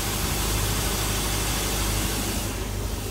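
A GM LS engine swapped into a 30-foot Bayliner boat runs steadily at idle, a loud continuous broadband roar with a low rumble throughout, close by.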